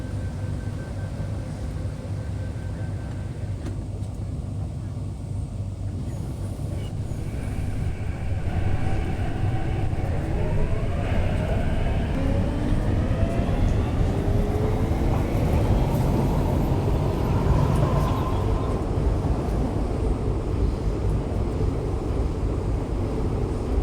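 An MTR C-Train of the Modified Initial System runs from Choi Hung toward Central, heard from inside as a loud steady rumble with rising motor whine as it picks up speed, continuous throughout.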